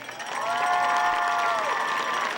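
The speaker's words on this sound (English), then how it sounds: "how about a nice round of applause as we welcome back our 2018 homecoming queen" Stadium crowd at a high school football game applauds and cheers the returning homecoming queen, broad clapping with sustained whoops and shouts rising above it, fairly loud throughout.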